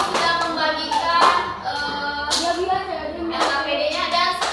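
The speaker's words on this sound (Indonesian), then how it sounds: "Kasih tepuk tangan untuk kelompok 1 sudah mengumpulkannya." Children in a classroom clap together in short bursts of rhythmic applause, close and fairly loud, with voices mixed in between the claps.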